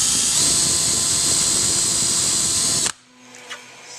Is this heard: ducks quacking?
no